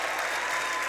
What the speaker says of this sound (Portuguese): Aplauda mais forte, gente, aplauda mais forte